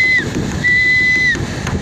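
Several dolphins whistle underwater, their clear, high tonal calls sustained and gliding up and down over a steady watery hiss, with two or three long whistles in quick succession.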